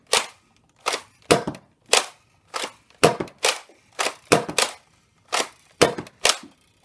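A Nerf shotgun mod built as a shotgun-axe prop is primed and fired repeatedly, giving about a dozen sharp, close plastic snaps and pops in an uneven rhythm with short gaps between them. No one talks.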